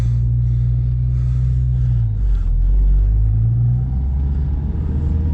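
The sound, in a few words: car with rebuilt Honda D16Z6 engine running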